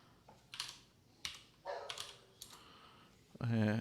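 Several separate bursts of typing on a computer keyboard are heard close and quiet, followed by a short louder sound at the end.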